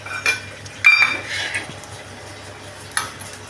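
Cooked mashed banana being served from a pot into a bowl: a few sharp clinks and scrapes of a utensil against metal, close by, separated by quieter gaps with faint background noise.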